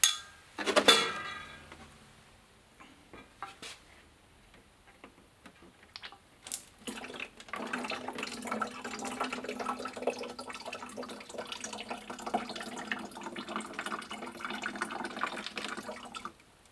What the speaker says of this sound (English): So I'm going to drain that out before I pack it away